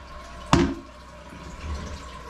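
Water is released into a toilet bowl during a clogged-toilet repair: one sharp splash is followed by a low, soft gurgle of settling water.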